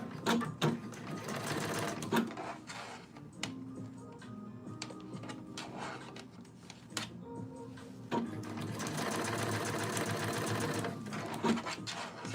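A sewing machine understitching a facing on fabric runs in steady mechanical bursts, whirring and clattering close by, pausing briefly midway before a longer continuous run.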